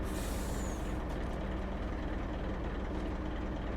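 A new semi truck in a farming video game, with a loud hiss of air brakes releasing at the start over a constant low diesel engine drone that fills the rest, close and steady, no talk.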